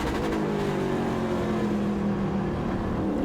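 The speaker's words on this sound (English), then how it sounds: "can hear LaPaglia hitting that limiter there between 3 and 4, and then here between 6 and 7." A loud, sustained engine roar at high revs, holding near a steady pitch with a slight rise, as a Trans Am race car passes close, hitting its rev limiter between turns 3 and 4 at Portland International Raceway.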